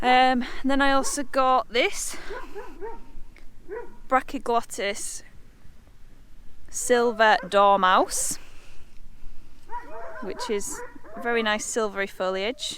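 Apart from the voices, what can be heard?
dogs barking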